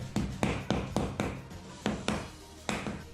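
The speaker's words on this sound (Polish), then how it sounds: "Wsuwam koszulki, dobijam młotkiem" A series of sharp hammer taps driving wall plugs into holes in solid concrete, about eight in irregular groups, close and moderately loud with nothing else going on.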